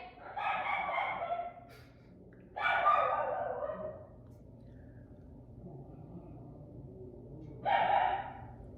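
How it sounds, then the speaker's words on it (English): Three drawn-out dog barks spaced several seconds apart, moderately close, with quiet background between them. "I don't know what they're barking at."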